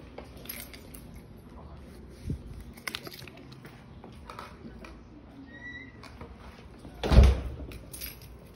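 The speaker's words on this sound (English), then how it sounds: "I'm gonna lock the door." A house door is shut and locked, with a couple of soft clicks and then one loud knock-like thud, amid quiet room sounds and faint talk.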